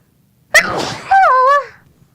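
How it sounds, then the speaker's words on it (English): A single sharp sneeze bursts out close to the microphone, then trails into a drawn-out, voiced exhale, with no other sound around it. "He sneezes."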